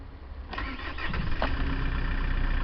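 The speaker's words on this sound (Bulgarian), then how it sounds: "Само ще ви покажа как пали и работи този автомобил." A car with 105,000 km on it cranks and catches, then settles into a steady idle, a broad close rumble that swells after the start and holds level.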